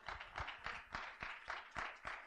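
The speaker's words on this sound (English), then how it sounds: "Clap your hands for Jesus." A church congregation clapping hands in a steady rhythm, about eight or nine sharp claps spaced roughly a quarter second apart, moderately close, with no talk over it.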